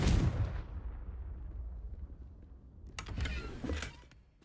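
A Confringo blasting spell explodes in the video game Hogwarts Legacy, opening with a loud low boom that decays into a rumbling tail, then a second crackling burst of impacts follows near the end.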